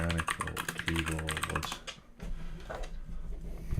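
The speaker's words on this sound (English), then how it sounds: "mechanical keyboard." Fast typing on a Keychron mechanical keyboard, a dense run of close crisp key clicks that breaks off briefly, then resumes more sparsely.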